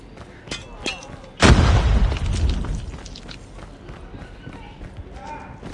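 In Call of Duty Mobile, a grenade detonates with a sudden loud boom that rumbles and fades over a couple of seconds, amid gunfire, footsteps and game effects, with people talking throughout.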